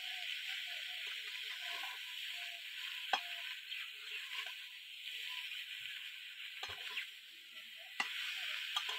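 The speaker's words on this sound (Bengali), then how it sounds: "কিছুক্ষণ কষিয়ে নিয়েছি" Spices with salt and turmeric are sautéed in a pan, a faint steady sizzle under occasional spoon scrapes and clinks on the metal.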